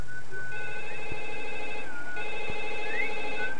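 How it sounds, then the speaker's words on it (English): Electronic telephone ringing in the PlayStation 2 game The Sims Bustin' Out, two repeated bursts of bright warbling ringtone with short chirps, clear and loud with a brief gap between rings. "Here's a Sim answering the phone."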